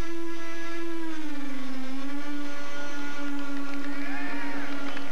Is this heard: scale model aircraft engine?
yes